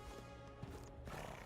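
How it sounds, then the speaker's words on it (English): A horse neighs and snorts against a steady, busy game soundscape in Metaphor: ReFantazio, with a soft thud partway through. "It's a horse. It's a horse I heard."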